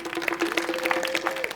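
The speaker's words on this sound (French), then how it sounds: "Applaudissez pour vous-même." A studio audience at a French-language reality TV show claps in a short burst of scattered, fairly close handclaps, with a faint voice underneath.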